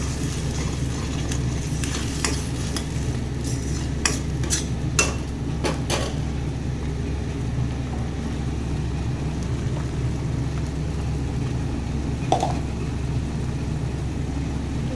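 Chicken rejala being sautéed in a pan, with a low steady sizzle under a series of sharp spatula clinks and scrapes against the metal, close by.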